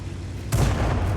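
A heavy tank cannon booms once in a tank video game, an FV1066 Senlac match, landing abruptly after a quiet stretch and leaving a thick low rumble that lingers to the end.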